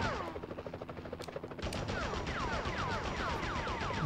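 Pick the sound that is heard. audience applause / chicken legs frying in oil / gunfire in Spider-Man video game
gunfire in Spider-Man video game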